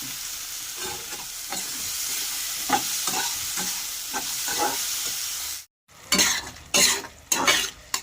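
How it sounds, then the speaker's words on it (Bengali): Spices with salt and turmeric are stir-fried in oil for a Bengali banana flower and prawn curry, with a spatula scraping and stirring over a soft sizzle, a brief pause, then several sharper stirring scrapes near the pan. "পরিমাণ মতন লবণ আর পরিমাণ মতন হলুদ সবগুলো আমি একবারে এগুলো কষিয়ে নেব"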